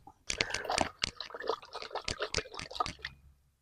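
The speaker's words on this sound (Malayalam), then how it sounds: "ഈ രണ്ട് ഗ്രാം സാഫ് ഇട്ട് ആ വെള്ളം നന്നായിട്ട് ഇളക്കുക" Two grams of Saaf fungicide being stirred into water, with a run of quick sloshing, splashing strokes and light knocks that carry on steadily for a few seconds, close by.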